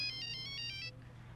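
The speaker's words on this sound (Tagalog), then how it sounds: "May tawag sa telepono." A telephone ringtone rings in a Filipino comedy TV episode: a bright electronic warbling trill pulses for just under a second, then cuts off, leaving a low steady hum underneath.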